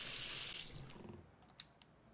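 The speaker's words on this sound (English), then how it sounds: "Get some water in here." Water running from a tap in the Cooking Simulator kitchen game: a steady hiss of filling that cuts off after about half a second, followed by a few faint drips and clinks.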